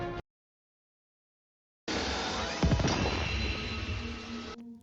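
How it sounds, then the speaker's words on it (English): Exotic item dropping in Destiny 2: after a moment of silence, a bright, shimmering burst of loot sound with a heavy low thump swells up and rings steadily for a few seconds before cutting off. "That is the sound of one of the rarest items in the game, an exotic."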